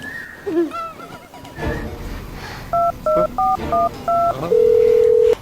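A telephone number is keyed in: five short, evenly spaced touch-tone beeps ring out loudly, followed by a longer sustained tone, after brief background voices.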